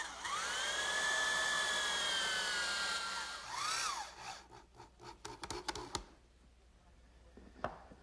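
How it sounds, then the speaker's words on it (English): A drywall screw is driven into wood with a power driver, a rising whine for a few seconds followed by scattered clicks and scraping taps as the driving stops. "I'll fasten this with a drywall screw."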